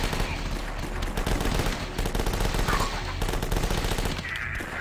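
Enemy gunfire strafing in The Last Stand, a zombie survival video game, plays as a dense, continuous rattle of rapid shots that stays loud and steady throughout, with no talk over it.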